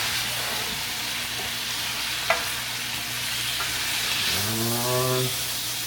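Food being stirred in a pan in a home kitchen, with a soft scrape and a faint sizzle under a steady background, then a short tonal sound near the end.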